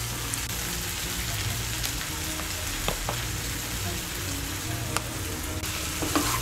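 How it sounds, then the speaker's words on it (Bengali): Spices being sautéed with potatoes and spring onions over medium heat in a pan, a dense, even sizzle with scattered clicks of stirring throughout and no voices. "পেঁয়াজকলি আলুর সঙ্গে মশলাটাকে একটু কষিয়ে নেব"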